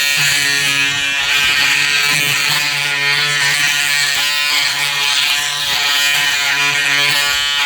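A Braun Series 7 360 Flex electric shaver runs steadily against facial stubble, giving a loud, close, continuous buzzing hum with slight shifts as it moves over the skin.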